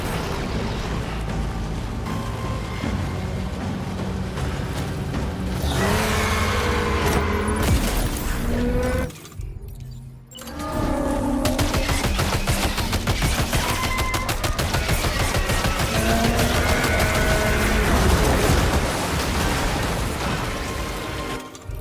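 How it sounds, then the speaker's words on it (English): Assault rifle fire in the video game Death Stranding 2, rapid bursts of shots over dense game sound, loud and continuous with a short pause midway, no talk. "then we shoot him with the assault rifle"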